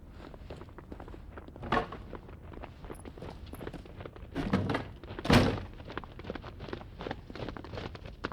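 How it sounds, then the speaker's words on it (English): Many footsteps from approaching soldiers in Final Fantasy 16 tramp in a dense, steady rhythm, close and moderately loud, with a few heavier thuds standing out along the way. "That sounds like a lot of footsteps."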